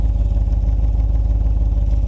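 A running SRT8 Jeep exhaust leaking at the muffler gives a deep, throbbing engine rumble with rapid, even pulses, loud and close for a couple of seconds.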